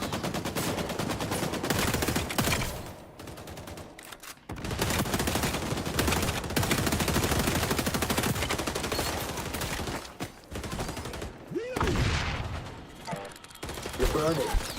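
Sustained automatic gunfire in the XDefiant shooter game, rapid bursts of rifle and machine-gun fire with brief pauses, loud and close, continuing for many seconds.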